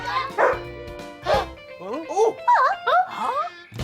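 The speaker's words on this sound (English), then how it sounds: "Boise pedalled over to see what Chihuahua was barking at." A cartoon Chihuahua gives a couple of yapping barks, then a run of high, whiny yips and whimpers, bright and close with no other sound around them.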